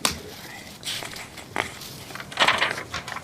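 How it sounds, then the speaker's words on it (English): A 3D-printed linked fidget toy being played with gives a few soft clicking and crackling bursts, close and fairly quiet, with a louder rustle of linked pieces near the end. "Stacy, this is one of the most satisfying fidget toys I've ever played with"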